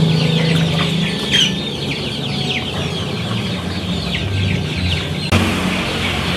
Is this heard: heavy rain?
no